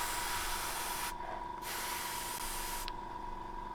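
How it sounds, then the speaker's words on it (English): Steady, close airbrush hiss sprays metallic paint onto a Nurgle Plague Hulk model from 2 to 3 inches away, cutting out briefly twice before resuming at the same even level. "I'm spraying it about 2 to 3 inches away from the model"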